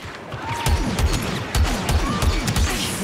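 Blaster fire rattles in bursts in the Star Wars Battlefront 2 single-player campaign, rapid sharp shots repeating at a steady rhythm over a low rumbling game background, moderately loud with no voices.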